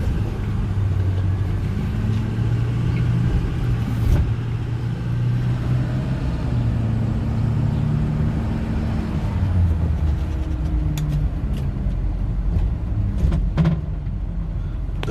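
A 2009 Ford F-450 dual-rear-wheel 2WD pickup with 153k miles rolls along in a steady low engine and road rumble, heard from inside the cab with faint rattles and no talking.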